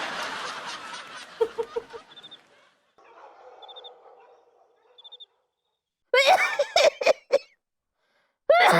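A few harsh coughs burst out near the end after quieter stretches, close and loud, with other faint vocal sounds and short chirps earlier.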